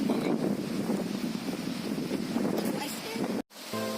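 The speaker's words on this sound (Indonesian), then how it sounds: "Sambil merasakan angin sepoi-sepoi." Breeze on a forest walk toward a hidden waterfall, heard as dense, blustery wind buffeting the microphone for several seconds before a sudden brief dropout, then a faint return.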